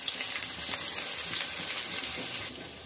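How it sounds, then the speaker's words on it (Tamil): Onions fry in hot oil for a fish curry, a dense, steady sizzle with faint watery crackle, close and fairly loud, with no voices. "ஆனியனை வந்து நம்ம நல்லா ஃப்ரை பண்ணிக்கலாம்."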